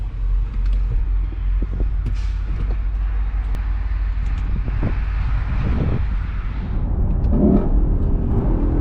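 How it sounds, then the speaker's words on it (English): A Lexus LC500 Convertible drives along with a steady low engine rumble and road noise, the drone swelling slightly toward the end, with no talking. "I'm driving the Lexus LC500 Convertible"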